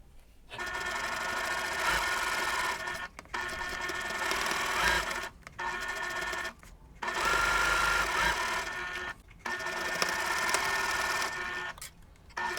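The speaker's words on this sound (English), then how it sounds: "I'm going to stitch with a 1/4 inch seam right down the center." A sewing machine stitches pinned quilt patches along a quarter-inch seam. Its close, steady whirring runs in several long bursts separated by short pauses.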